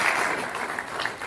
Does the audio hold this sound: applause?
yes